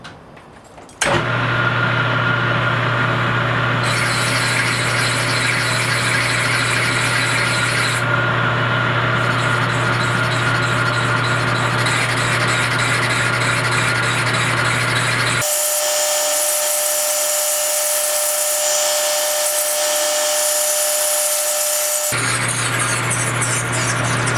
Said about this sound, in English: So that's how you make a piece of square phenolic into a piece of round phenolic.